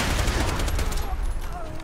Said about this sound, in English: Gonna shoot them now.